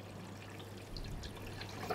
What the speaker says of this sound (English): We can see that the water flow is smooth through both channels